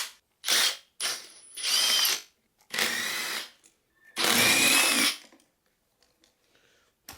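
A power tool works the turbo stud nuts on a forged engine, running in about five short whirring, ratcheting bursts separated by pauses of near silence, close and fairly loud.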